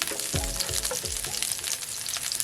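Potatoes sauté in hot oil as grease crackles and pops in a dense, continuous sizzle, close and fairly loud, with a few brief tonal squeaks early on.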